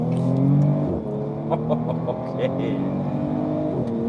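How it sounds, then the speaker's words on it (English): Bentley Flying Spur Speed's W12 engine accelerating in sport mode, a smooth steady drone from inside the cabin that rises in pitch and resets with gear changes, with a brief spoken word over it. "So I'm going to go into sport mode now and just let's see the W12 do its thing."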